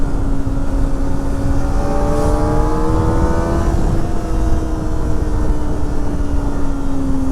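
Kawasaki Ninja ZX-4R inline-four motorcycle held wide open, its engine note climbing to a shrill high-rpm scream, steady and close for several seconds with the pitch rising and then holding near the top.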